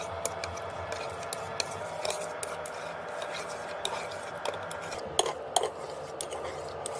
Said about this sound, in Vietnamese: Để mọi thứ tan lẹ hơn thì tôi sẽ lấy đũa khuấy khuấy, như vậy cũng sẽ đỡ bị khét dính đáy nồi nữa.